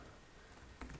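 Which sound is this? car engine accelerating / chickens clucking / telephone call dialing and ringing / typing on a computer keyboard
typing on a computer keyboard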